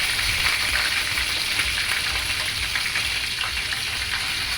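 Curry leaves and green chilli pieces fry in hot oil in a pan for a bean and tomato curry, giving a steady, dense sizzle that stays loud and close throughout with no voices.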